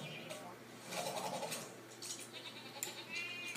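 A bleating sheep enemy in the Skylanders Trap Team video game gives a short, mid-pitched bleat amid busy game effects and music, with a person talking over it.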